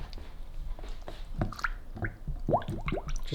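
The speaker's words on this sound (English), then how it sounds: "Just going to give it a little turn just to help the air bubbles come out." A water dispenser filter cartridge is soaked and turned in a container of water, giving soft squishing, dripping and gurgling bubble sounds, close and fairly quiet.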